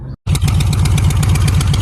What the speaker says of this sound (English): My bike's idling all stupid. I think I have a vacuum leak.